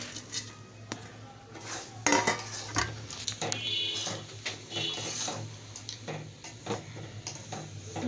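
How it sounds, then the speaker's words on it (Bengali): A semolina laddu mixture with cashews and raisins stirred in a pan, with metallic spoon scrapes and clinks against the pan in an irregular rhythm, close and fairly quiet, no voices. "নাড়তে হবে ধীরে ধীরে।"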